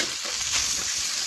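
Snacks tossed into a hot pan with fried onions crackle and sizzle in a steady, close frying hiss that does not let up, with no talking.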